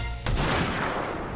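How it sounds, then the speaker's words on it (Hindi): A single gunshot cracks out from behind, a sharp broadband blast that rolls into a dense, lingering rumble of reverberation. "तभी पीछे से एक गोली चली"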